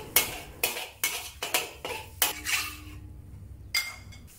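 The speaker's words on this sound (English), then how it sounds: "Once the egg is set, cut it into small pieces with the wok spatula" A wok spatula chops set egg into pieces in a wok, giving about nine sharp metallic scrapes and clacks in an uneven rhythm, close and fairly loud, with quiet gaps between them.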